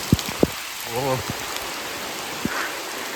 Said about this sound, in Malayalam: നല്ല മഴ കേട്ടോ.